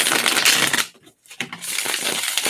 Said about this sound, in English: We'll give it 2 more shuffles.